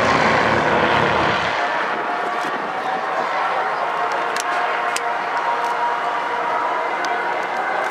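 A display aircraft flies past at the Bournemouth Air Festival, a loud sustained engine roar that holds steady throughout at close range.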